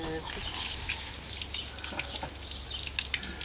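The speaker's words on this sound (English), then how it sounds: "Dripping." Water drips and trickles quietly over a hissy outdoor background.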